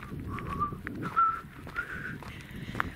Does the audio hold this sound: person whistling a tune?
yes